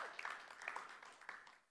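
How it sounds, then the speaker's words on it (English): Brief, faint patter of audience clapping in a church, a short scattered round of applause that fades out within a couple of seconds. "Unexpected round of applause there"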